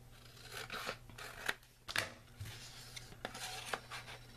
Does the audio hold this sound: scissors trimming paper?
yes